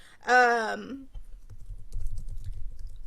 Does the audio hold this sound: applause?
no